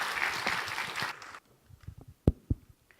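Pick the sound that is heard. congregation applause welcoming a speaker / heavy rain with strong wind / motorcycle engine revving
congregation applause welcoming a speaker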